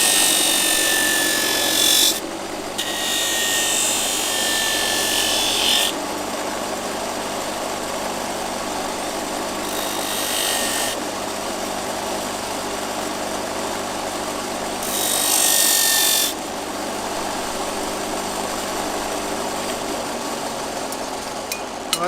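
Power grinder working a horse's hoof during shoeing, a loud whining hiss in several bursts of a few seconds each over a steady motor hum, with no talking.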